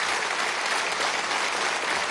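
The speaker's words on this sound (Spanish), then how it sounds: "Párense y aplaudan para que se les quite el frío." Audience at a gathering in Venezuela's National Assembly applauds steadily, a dense, even wash of clapping at close range with no pauses and no voices audible above it.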